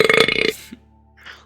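A loud, rough burp lasting about half a second, followed by quiet and a faint short breathy sound.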